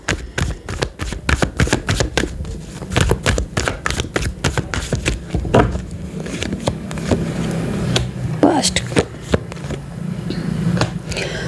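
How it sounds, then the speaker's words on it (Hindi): Tarot cards are handled, shuffled and drawn at close range: a fast run of crisp riffling flicks gives way to softer sliding and tapping of the deck. No voice is heard. "इसको मैं यहाँ रख लेती हूँ और कार्ड ले लेती हूँ, देखती हूँ।"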